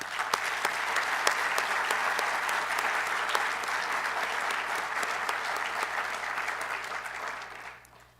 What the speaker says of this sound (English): I think you all deserve another round of applause.